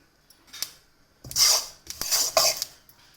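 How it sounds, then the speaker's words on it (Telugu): Sesame seeds frying in a hot pan for kajjikayalu: bursts of crisp crackling and hissing rise and fall with utensil scrapes, fairly close, no voices. "అవి చిట్ట ఇట్లా వేగుతున్నాయి"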